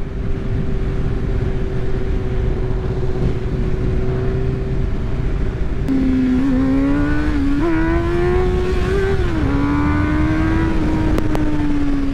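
A 2011 Honda CBR 600 F four-cylinder sport motorcycle engine drones steadily while riding through curves, then its pitch climbs and dips through a series of revs and gear changes, loud and close throughout.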